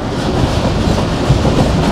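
A passenger train running out of Rawalpindi, a steady low rumble with rhythmic clickety-clack of wheels over rail joints, close and continuous with no voices.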